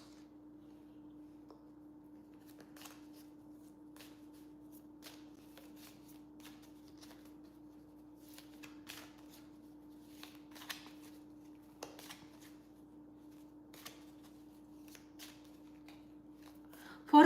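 Oracle cards being shuffled by hand, soft papery flicks and riffles scattered over a quiet, steady background hum, faint and close with no talking.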